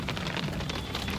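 Steady outdoor rain hisses and patters evenly on surfaces, a dense, continuous wash of drops with no voices over it.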